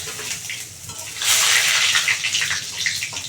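Bay leaf and dried red chilli dropped into hot oil with cumin over a lowered gas flame, a soft background hiss that bursts into a loud, close, sustained sizzle partway through.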